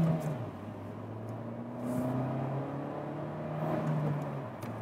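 A 2016 Nissan Pulsar Tiida 1.2T Acenta accelerates on the road, its engine note climbing steadily in pitch through the gears, heard from inside the cabin with a constant whir and road noise and no talking.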